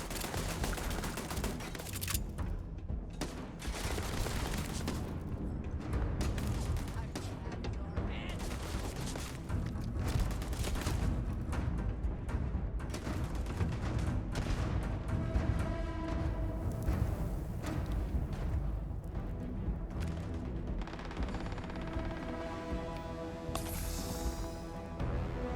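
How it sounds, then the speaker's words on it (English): Sustained gunfire rattles on in Starfield, steady bursts of shots with heavy booms mixed in that fit grenade blasts, a dense, continuous firefight throughout at moderate loudness. "Guys are out here throwing grenades from like a kilometer away with pinpoint accuracy."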